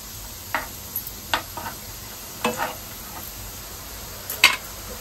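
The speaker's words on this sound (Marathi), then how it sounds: "मसाला टाकते फोडणीमध्ये." Malvani masala and garam masala go into hot oil for tempering over browned onion for Malvani-style egg curry, with soft sizzling and a spoon stirring and scraping in short, repeated strokes.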